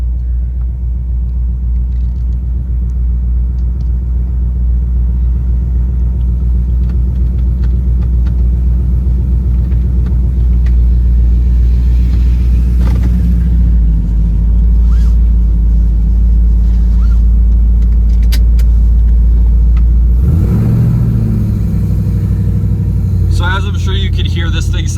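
A 2017 Jeep Wrangler fitted with a Hellcat engine drives along, its deep, loud rumble steady throughout, swelling briefly with a heavier rev near the end.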